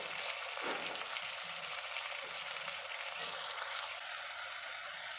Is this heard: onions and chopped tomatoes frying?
yes